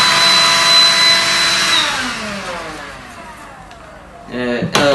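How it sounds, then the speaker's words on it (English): A cyclone-style handheld car vacuum cleaner's motor whines at a high pitch, then winds down and fades, with a short clatter at the end and a voice in the background. "This is our 4 car vacuum cleaner"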